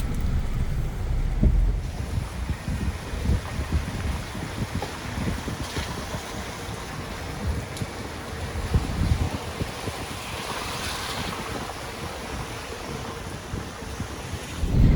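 Hurricane floodwater rushes steadily through a parking lot and across a road in Huatulco, Mexico, a loud continuous roar and wash mixed with heavy wind buffeting, with no talk.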